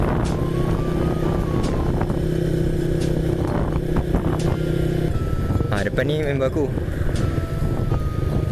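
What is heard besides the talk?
friend's motorcycle riding on the road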